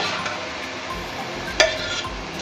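Rice being stirred into melted sugar syrup in a pot for zarda, a sweet rice dish, over a medium-low flame: a soft steady scraping and hiss, with one sharp clink of the spoon against the pot partway through.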